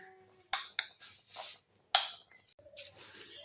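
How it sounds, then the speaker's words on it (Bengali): A spoon stirs thick banana batter with chopped raisins in a bowl for fritters, making close, quiet, irregular clinks and scrapes against the bowl in short bursts. "এবার আমি সমস্ত ব্যাটারটাকে আস্তে আস্তে করে গুলে নিচ্ছি।"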